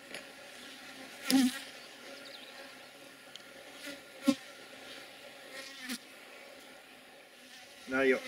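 Black honey bees fly around an open top bar hive on the Isle of Man, making a faint, steady buzzing hum with a few individual bees droning louder as they pass close.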